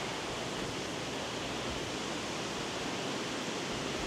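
Broadband roar of a waterfall in Meghalaya, a steady dense rush of falling water that stays even and unbroken throughout, with no voices or other sounds over it.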